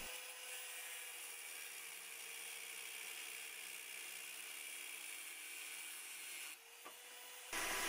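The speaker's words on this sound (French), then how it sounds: "On commence donc par découper tout ça aux bonnes longueurs." Sawing through M10 threaded rod to length for a camera slider build, a steady continuous grinding rasp running almost unbroken for several seconds before stopping abruptly near the end.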